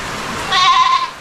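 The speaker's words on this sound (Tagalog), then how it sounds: "May kambing." A goat gives a single short bleat, fairly close and clear, rising out of a quiet background and fading within about half a second.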